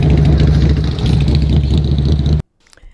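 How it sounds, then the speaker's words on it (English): Motorcycles on the Dayton VA campus during the Rolling Thunder POW MIA ride roar loudly nearby with a steady rumbling engine drone that cuts off abruptly near the end. "The Rolling Thunder POW MIA motorcycle ride took place during September."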